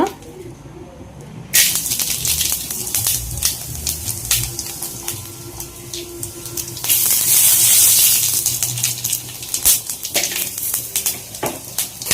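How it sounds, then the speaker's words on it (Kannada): Spices hit a spoonful of hot oil in a pan for a chicken keema sambar, crackling and sizzling in a sudden burst that swells and fades with utensil clatter, under a voice speaking throughout. "ಎಣ್ಣೆ ಹಾಕಿದ್ದೀನಿ ಸ್ವಲ್ಪ ಒಂದು ಸ್ಪೂನಷ್ಟು ಇವಾಗ ನಾವೇನೇನು ತೊಗೊಂಡಿದ್ವಲ್ಲ ಅದನ್ನು ಫಸ್ಟ್ ಸ್ಪೈಸಸ್ ಎಲ್ಲ ಹಾಕ್ಕೊಳ್ಳೋಣ"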